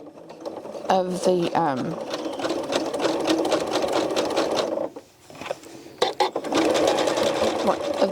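Sewing machine stitching colourful thread along a coiled rope bowl, running in steady bursts with a brief pause near the middle, with a person talking over it.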